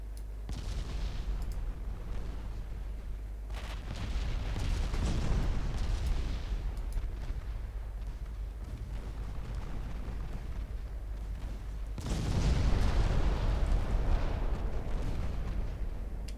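Naval secondary guns firing in the Ultimate Admiral Dreadnoughts warship game, a continuous rumble of distant booming shots and explosions that swells louder near the end, with no talking.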